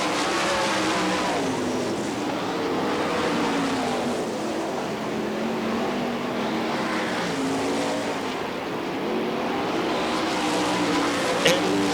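Sprint cars race in a pack around a Florida dirt track during a Winternationals heat, a dense, steady roar of engines rising and falling as they pass, loud and continuous throughout.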